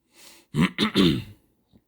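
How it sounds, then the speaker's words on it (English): A close, loud bout of throat clearing: a short raspy lead-in followed by two harsh, coughing bursts, then quiet. "Hold up, I got to cough again."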